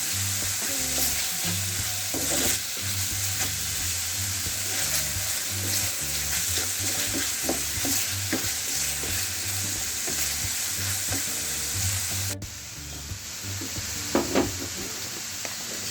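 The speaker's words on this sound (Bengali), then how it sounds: "চিকেনটা 4 থেকে 5 মিনিট একটু নাড়াচাড়া করে" Chicken for burgers fries in a pan with a steady, close sizzle while a utensil stirs and scrapes it in irregular strokes, with a low hum underneath and no talking.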